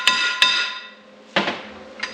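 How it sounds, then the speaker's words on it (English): Sharp metallic hammer blows on metal held in a small Harbor Freight vise, two quick strikes then two more after a pause, each ringing briefly with a bright clang, close by. "Oh, I need a hammer."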